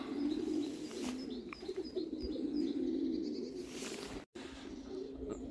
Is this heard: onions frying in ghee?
no